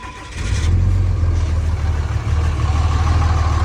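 A diesel tow truck with a grid heater catches almost at once, then settles into a loud, steady low-pitched idle rumble close by.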